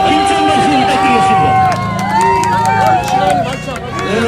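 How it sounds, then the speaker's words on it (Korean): At a crowded Korean political rally near Moran Station, a dense crowd roars with cheering and shouting, loud and continuous, with voices talking over the din. "여러분, 힘찬 박수"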